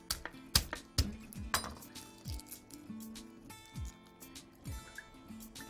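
Metal pan and kitchenware clinking as olive oil is started for garlic and pasta, a scatter of sharp taps and clanks with some clear ringing hits early, fairly close and moderately quiet, no talk.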